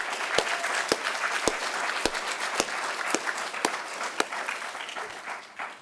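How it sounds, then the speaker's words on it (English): Applause for the candidates at a county primary candidate forum, a steady patter of many hands clapping continuously for several seconds, with a few sharper individual claps standing out. "I want to give a quick round of applause to all of our candidates"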